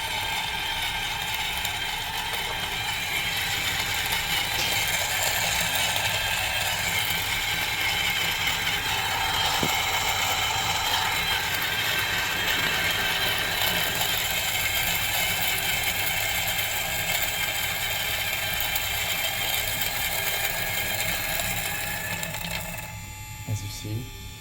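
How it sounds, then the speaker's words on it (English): Electric coffee grinder steadily grinding freshly roasted coffee beans, a loud continuous whirring, rattling drone that holds for most of the span and then winds down near the end. "turn on the grinder"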